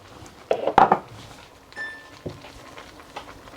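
A spoon stirs spring greens curry in a pot, giving a few sharp close scrapes and knocks against the metal followed by softer intermittent clinks and shuffling.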